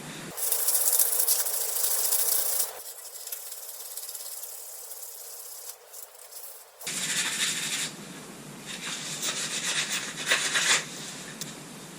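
Rough, hissing abrasive strokes of sanding a faucet before primer come in long sustained bursts, broken by a quieter pause before the scratching resumes, loud and close.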